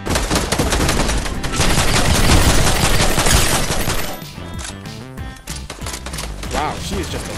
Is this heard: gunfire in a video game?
yes